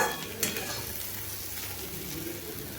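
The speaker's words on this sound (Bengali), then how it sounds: "করলা ও আলুগুলো আমার প্রায় ভাজা হয়ে এসেছে" Bitter gourd and potatoes frying in a pan give a steady, close sizzle with a brief scrape of stirring near the start, holding an even level throughout with no talking.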